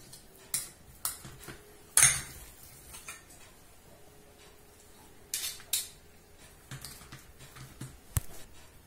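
Two spoons clink and scrape now and then while cookie dough is shaped into small balls, giving sparse light metallic taps and knocks over a quiet kitchen background.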